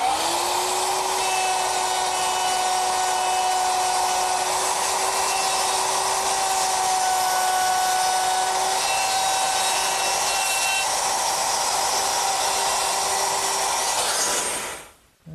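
A handheld wood router with a guide collar cutting a hinge mortise in a Shaker woodbox, a steady high motor whine with loud cutting noise running for about fifteen seconds before the motor winds down at the end.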